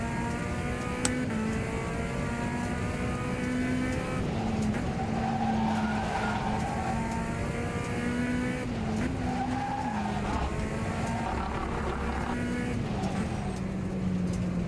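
In a racing video game, a race car's tires squeal and skid while the car spins out, with a steady engine drone underneath and sliding pitch sweeps in the squeal, all sustained over several seconds.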